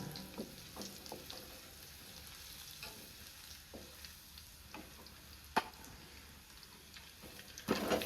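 A coriander wadi mixture with chutney and chili is sautéed in a pan, giving a faint, steady sizzle broken by soft scraping stirs and a few sharper clinks of a spoon against the metal.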